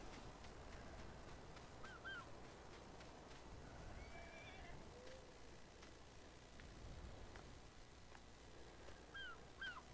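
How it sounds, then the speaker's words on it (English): Horse whinnying in Farming Simulator 19, a faint farm-game ambience with short neighs and honking calls surfacing a few times over a steady low background, no talk. "maybe he's just sick of the noise from the horse."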